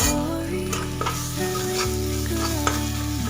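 Masala is stirred and fried in a pan, giving a steady sizzle with scraping spoon strokes close by and no talk over it.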